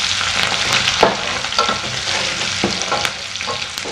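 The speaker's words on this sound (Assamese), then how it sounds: "এতিয়া এইখিনি লৰাই লওঁ ভালদৰে।" Onions frying with salt in a pan while a spoon stirs them, a steady close sizzle broken by several scraping knocks of the spoon against the pan, with no talking.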